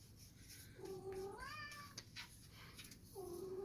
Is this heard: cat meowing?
yes